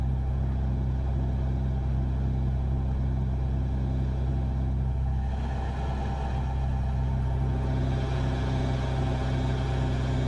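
A deep, steady Freightliner FLB truck engine burble in American Truck Simulator, with a low throbbing rumble, continuous and loud throughout, no voices present.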